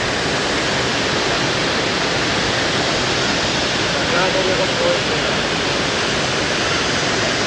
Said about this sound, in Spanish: Y aquí la tenemos, la cascada grande.